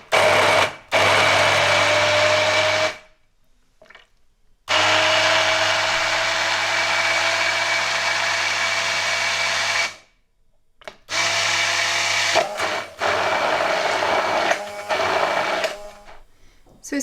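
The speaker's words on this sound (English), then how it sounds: "So just using a handheld blender." A handheld blender whirs loudly while blending a chicken marinade paste with a splash of water, in steady runs of several seconds broken by short silent pauses, with the motor pitch shifting slightly as the paste thickens.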